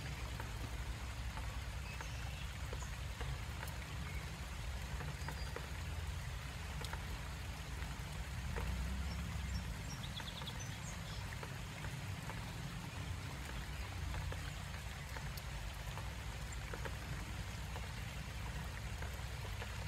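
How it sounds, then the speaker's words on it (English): Gentle spring rain falling steadily, a soft even hiss of drops with a low rumble beneath and no voices, faint and continuous throughout. "Gentle spring rain can be so refreshing and relaxing"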